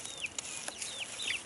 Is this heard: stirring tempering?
no